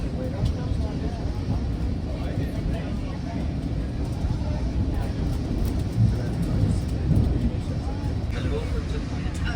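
Steady low rumble inside the upper deck of a moving double-decker GO Train commuter train heading toward Niagara, continuous and fairly loud, with people talking over it throughout.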